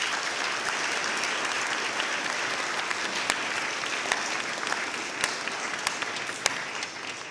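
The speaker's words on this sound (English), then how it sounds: "Let's have a round of applause for our high school student body." A school audience applauds the high school student body, a broad, steady wash of many hands clapping at moderate distance, with a few sharper individual claps standing out and no talking.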